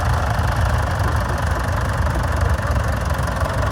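A vintage Fordson Dexter tractor engine runs at a vintage rally parade in Cupar, Fife, a loud, close, steady diesel chug with a knocking low throb and no voices.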